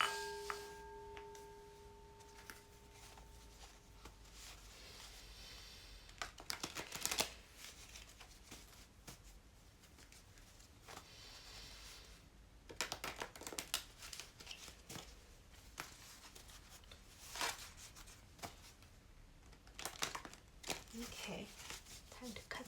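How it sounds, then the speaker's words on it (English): Tarot cards are shuffled in repeated riffling bursts, soft and close, with a quiet voice talking at times between the shuffles. "I'm going to shuffle the cards here"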